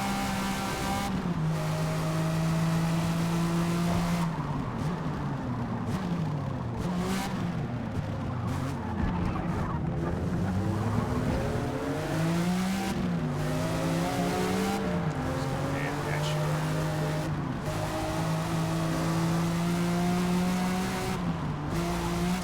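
Race cars in the Forza Motorsport video game: loud, continuous engine drone rises and falls through gear changes, with tire squeal and skidding through corners and no talk over it.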